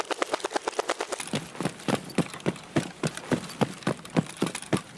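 Rapid footsteps of a squad running together in Escape From Tarkov, a dense stampede of sharp, evenly repeated thuds that stays loud and close throughout.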